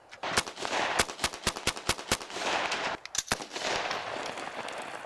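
Gunshots fired off a boathouse ring out in a fast, uneven string of sharp cracks, a dozen or more close together, with a brief pause before a few more shots.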